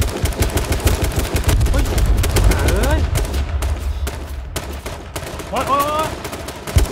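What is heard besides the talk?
gunfire in the video game H1Z1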